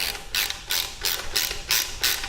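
A socket ratchet tightens the last bolt on an aftermarket Harley-Davidson performance exhaust with a chrome end cap and baffle, giving about six close, steady bursts of rapid pawl clicking with short pauses between them.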